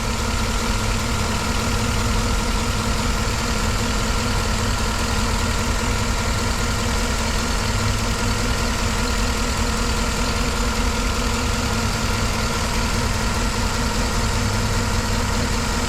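A 2011 Chevy Tahoe engine runs with a misfire, giving a steady, close, unbroken idle rumble and mechanical drone throughout, with no voices.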